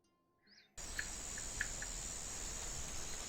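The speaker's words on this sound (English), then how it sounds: "Those cicadas." Cicada ambience in an online Dungeons & Dragons session switches on abruptly after a brief quiet moment, then a steady loud high-pitched drone persists with a few sharper chirps poking through.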